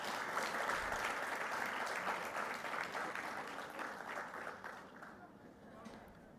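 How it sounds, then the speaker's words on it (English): A seated audience at a World Environment Day celebration gives the awardees a sustained round of applause, heard at moderate distance and tapering off near the end. "So let us give all our awardees another well-deserved round of applause,"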